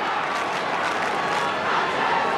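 A large football crowd roars at Telstra Dome during a 2003 Carlton versus Kangaroos match, giving a dense, steady wash of cheering and clapping with faint commentary underneath.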